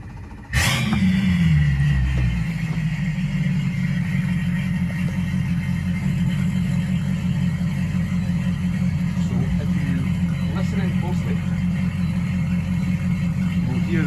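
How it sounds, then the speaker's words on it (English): A Quicksilver 755 Bowrider boat's engine cranks and catches with a sharp burst, then settles into a steady, loud, deep idle that rumbles on without a break. "when we start up the engine"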